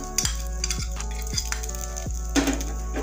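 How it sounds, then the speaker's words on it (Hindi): Spring roll filling of chicken, noodles and mayonnaise is mixed in a bowl, with repeated utensil clinks and scraping strokes at an even pace over a soft background hiss. "इन सब चीज़ों को अच्छा से मिक्स कर लेते हैं।"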